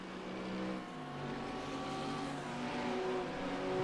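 Race cars at the Zolder circuit cross the finish line, a sustained high engine roar that swells and shifts pitch as the cars pass, loud and continuous.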